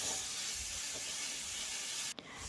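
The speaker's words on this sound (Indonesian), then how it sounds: "Lalu tumis bumbu yang sudah diulek tadi." Ground spice paste sautéing in oil in a wok for taro cilok, a steady close hiss and sizzle that runs throughout, broken briefly by a sharp drop near the end.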